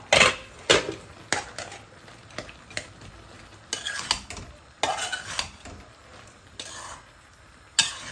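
Dried fish and plenty of garlic stirred in a pan: intermittent clanks and scrapes of a metal spoon against the pan come in bursts over a faint low sizzle, close and clear.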